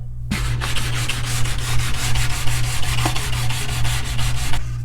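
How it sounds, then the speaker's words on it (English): Fine-grain sandpaper rubs back and forth along the rough edges of a raw wooden shelf, a close, steady, gritty scrubbing with a low constant hum underneath. "I'm going to use a very fine grain sandpaper to just buff those edges out"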